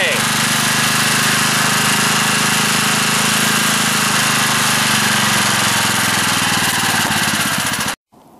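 Small generator engine running on wood stove smoke, a steady loud buzzing drone that holds evenly for about eight seconds and then cuts off abruptly.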